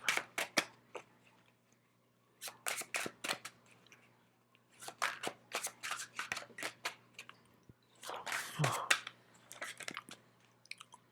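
Tarot cards shuffled in repeated bursts of crisp riffling and clicking, close and fairly quiet, with short pauses between rounds and no talking.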